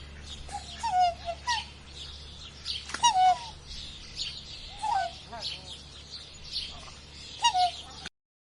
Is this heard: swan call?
yes